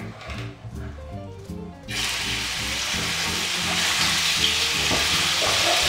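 Salted and peppered chicken hits a very hot pan on a maximum flame, breaking into a loud, close, steady sizzle after a brief stretch of quieter clatter and stirring.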